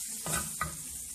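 Ground spices frying on a tava for keema, a steady sizzle with two distinct stirring scrapes close by, no voices.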